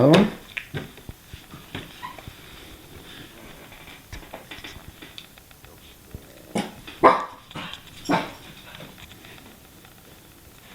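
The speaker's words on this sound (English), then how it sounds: "Where'd that crazy dog go?" Dog barking in short sharp bursts with whimpering in between, scattered across a quiet room, with a voice speaking at times.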